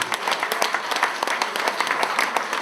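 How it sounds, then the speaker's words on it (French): Audience applause at a departmental council honors ceremony for a volunteering medal, a steady patter of many hands clapping with scattered sharper individual claps throughout, moderately loud and without voices. "je vous demande d'applaudir pour ceux de l'Afrique"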